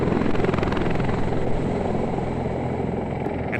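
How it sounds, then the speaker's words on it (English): V-280 Valor tiltrotor assault aircraft in flight, a loud, steady rotor roar with a rhythmic low-frequency beat, close and continuous without any talk. "Meet the V-280 Valor, future long-range assault aircraft."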